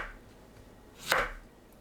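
A kitchen knife cuts once through a zucchini into a thick slice, a single crisp, close chop against the board. The rest is quiet, with no talking.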